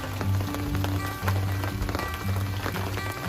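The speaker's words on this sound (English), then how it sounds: "started raining." Steady rain patters down on a campsite, a dense, even hiss with scattered louder drops over a low humming drone, close by, with no voices.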